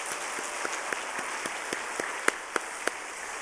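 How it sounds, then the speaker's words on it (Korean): Church congregation at a Wednesday worship service applauds in a soft, steady patter of many hands, with a few louder individual claps near the end, heard from a distance in a reverberant room. "우리 다시 한번 격려의 박수 하겠습니다."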